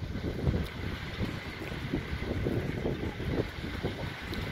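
Rumbling motors of panga boats passing on harbor water near a town, a continuous low churn mixed with gusty wind buffeting the microphone, no voices.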